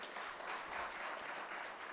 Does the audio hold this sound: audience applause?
yes